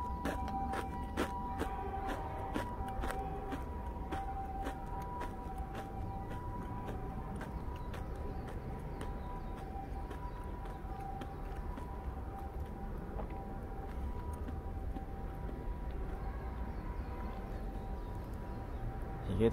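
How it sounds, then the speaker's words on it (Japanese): A distant ambulance siren in Japan wails faintly over a low background rumble of traffic, with sharp clicking noises scattered near the beginning. "救急車と戦闘機がすごい飛んで、"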